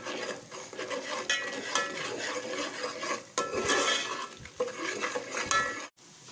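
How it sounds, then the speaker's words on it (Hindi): Onion paste frying in hot oil in a pan while a spoon stirs and scrapes it, a continuous soft sizzle with repeated clinks and rasping strokes, close and without speech. "अब मैं इसमें प्याज का पेस्ट डाल रही हूँ। प्याज भून रही है।"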